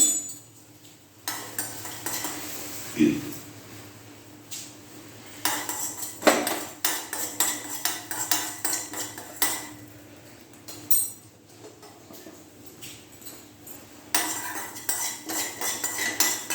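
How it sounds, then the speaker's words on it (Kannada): Fenugreek and mustard seeds roasting in a pan over a low flame, with intermittent scraping and clinking of a spoon stirring against the metal, close and moderately loud, no talking. "ಇಷ್ಟು ಸ್ವಲ್ಪ ಮೆಂತ್ಯ ಹುರ್ಕೋಬೇಕು ಮತ್ತು ಸಾಸಿವೆನೂ ಬೇಕಾದ ಜೊತೆಯಲ್ಲೇ ಹಾಕ್ಬಿಡಿ ನಿಧಾನಕ್ಕೆ ಕಮ್ಮಿ ಉರಿಯಲ್ಲಿ ಮಾಡ್ಕೋಬೇಕು"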